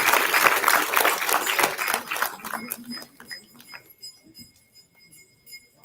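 A temple crowd at a Ganesh Chaturthi eve celebration gives a short round of applause that is dense at first and fades within a few seconds, leaving faint metallic clinks and chimes in a quieter room.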